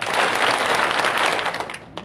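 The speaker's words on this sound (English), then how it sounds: "May I ask you to clap 5 times faster" Audience at a college entrepreneurship summit clapping quickly in unison, a loud, dense flurry of many hands that fades toward the end with a last faint clap.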